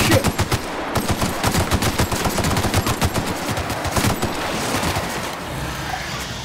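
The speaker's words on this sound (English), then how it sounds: "I like the light machine gun." Light machine gun fire in The Outer Worlds, a fast, steady stream of loud sharp shots that keeps up for several seconds and then thins into a noisier stretch near the end, with no talking.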